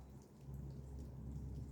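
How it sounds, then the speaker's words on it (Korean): Rain falls steadily on a rainy day, a soft, continuous patter with scattered drops, faint and even throughout, without any voices. "오늘은 지금 비가 내리고 있어요."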